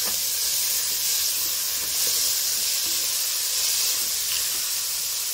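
Finely chopped onions fry in hot oil for a Kerala-style mutton curry, giving a loud, steady hiss and sizzle that holds without a break and with no talking.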